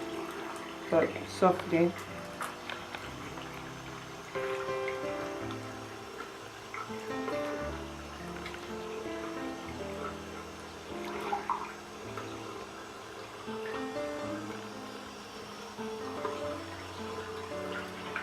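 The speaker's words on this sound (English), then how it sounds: "So I'll dry out the hair by wringing it from the top" Water dripping and splashing from wet hair extensions as they are wrung out from the top, soft intermittent trickles and drips close by, with a person talking quietly over it.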